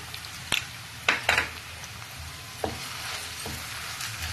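Ginger garlic paste hits a hot pan with a soft sizzle and fry hiss, broken by a few sharp clinks and scrapes of a spoon against the pan while it is stirred in, no voices.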